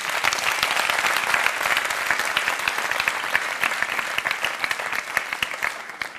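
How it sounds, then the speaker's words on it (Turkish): Dense, steady applause from a studio audience on a Turkish talk show, many hands clapping close together at a sustained even level throughout, with no voices over it. "İşte buna bir alkış gerekiyor"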